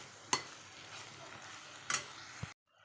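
Brinjal curry with masala and ground peanut-garlic paste being stirred in a pan, a faint low sizzle with two distinct scraping clinks of the spoon against the pan and a softer tap near the end.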